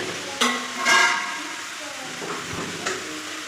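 Onions sautéing in a pan for chutney in a home kitchen, with short scraping stirs and a soft sizzle coming in brief bursts, fairly close.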